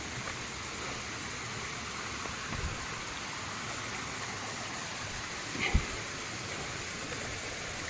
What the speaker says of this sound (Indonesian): Ini di air terjun